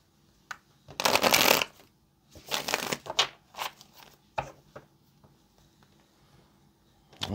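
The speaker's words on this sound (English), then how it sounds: "one more shuffle" Tarot cards are shuffled in a few brisk riffling bursts, followed by scattered soft taps and shuffles, close and quiet otherwise.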